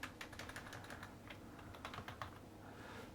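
A terminal command tapped out on a computer keyboard, a steady run of quiet, close keystrokes with no voice over it.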